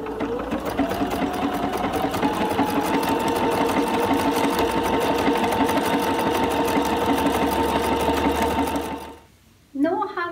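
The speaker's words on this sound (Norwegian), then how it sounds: "Så nå legger jeg den ned, sånn, så syr vi litt igjen." Bernina sewing machine stitching lace to ribbon, a loud, fast, even mechanical whir with rapid rhythmic needle clatter running for about nine seconds before stopping abruptly, then a brief restart.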